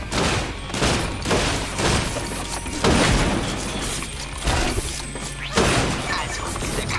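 Sniper gunfire in the video game Sunset Overdrive: repeated loud cracks and crashing impacts at irregular intervals, dense and close throughout.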